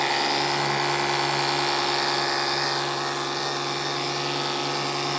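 A Ryobi 40V battery pressure washer with a 15-degree nozzle sprays soapy water at a muddy radiator, its motor holding a loud, steady high whine over a continuous spray hiss, with no talking.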